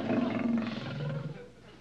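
A lion roars loud and close with a deep, rasping sustained growl that tapers off over about two seconds.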